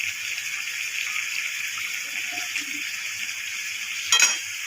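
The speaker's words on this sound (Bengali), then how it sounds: "এবার ভালো করে মশলার সাথে মাংসগুলো মিশিয়ে নেব।" Chicken pieces being stirred with spices in a pan for Korean style spicy chicken give a steady, soft sizzle throughout, with a brief metallic scrape near the end.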